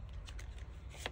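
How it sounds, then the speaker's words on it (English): A deck of cards gets a quick, quiet shuffle up close, a brief riffle of soft flicking ending in a sharper snap. "Give it a quick little shuffle."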